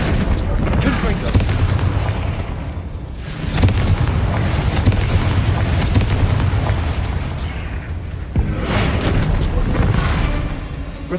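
Confringo blasting spells explode in a Harry Potter video game: several heavy booms burst out over a dense, rumbling game soundscape, with a voice speaking now and then.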